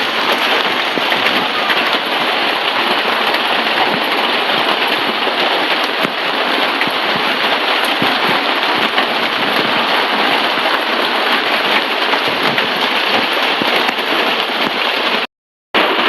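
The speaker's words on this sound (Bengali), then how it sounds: "সেই সকাল থেকে বৃষ্টি।" Heavy rain pours down on a rainy Eid day, a loud, dense, unbroken hiss that fills the whole stretch and cuts out for a moment near the end; no one speaks.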